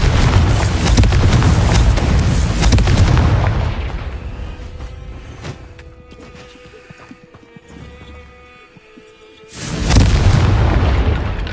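A Confringo blasting spell in Hogwarts Legacy detonates with a loud, booming explosion that rolls off into a long fading rumble, followed near the end by a second heavy blast.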